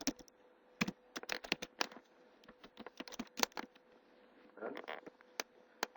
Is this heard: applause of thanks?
no